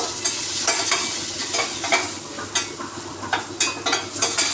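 Spiced potatoes with salt, chili powder, turmeric and cumin sizzle steadily in a pan while a spatula stirs and scrapes in irregular strokes, close and alone.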